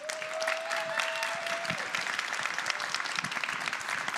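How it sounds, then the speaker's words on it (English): Conference audience applauding panelists at the wrap-up of an event, a continuous, even patter of many hands, moderately loud, with a brief spoken voice near the start. "Everyone please give a huge round of applause for the panelists."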